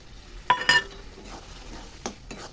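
Green peas are tipped into a pan of chicken frying for chicken kasha, a sharp metallic clatter and rattle of a bowl against the pan, then a low sizzle and another clink.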